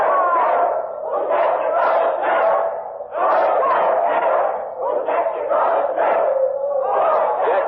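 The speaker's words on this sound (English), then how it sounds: "And now the crowd is chanting a doggerel." A crowd in a 1940s classic radio drama chants a rhythmic doggerel in unison, loud surging bursts of massed voices repeating roughly every second, close and continuous.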